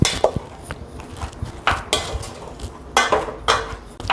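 Seasoned sushi rice being mixed in a bowl, giving irregular clinks and scrapes of a utensil against the dish, with bursts of soft stirring noise at close range.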